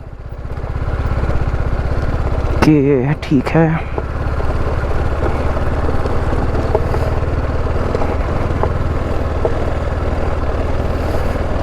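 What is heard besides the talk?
motorcycle engine running in a mine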